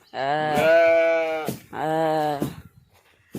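Sheep returning to a village farm bleat loudly nearby, two long quavering calls in quick succession followed by a short fainter one.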